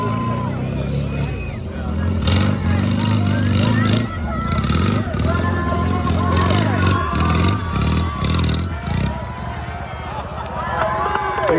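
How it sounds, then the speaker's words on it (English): A motorcycle at a hill climb on a ski hill, its engine droning and revving steadily at a distance beneath crowd chatter and a commentator's voice. "And now this motorcycle is a special motorcycle"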